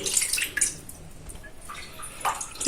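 About one and a half cups of water poured into a wok in a couple of splashy bursts with trickling and dripping between them, close and fairly loud.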